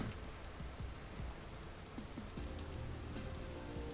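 Rain falls steadily in the video game Vintage Story, a soft, continuous patter on surfaces with faint low thumps beneath, quiet and even throughout.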